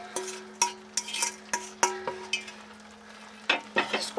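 Dry fruits stirred into melted jaggery in a pan for dry fruit laddu, a series of sharp rhythmic scrapes and clinks of a spoon against the pan, pausing midway before resuming; no voices.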